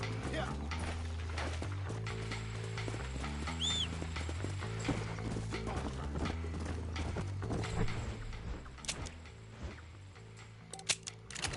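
Steady clip-clop of horse hooves in Red Dead Redemption runs under a busy game soundtrack with music, voices and a brief whinny.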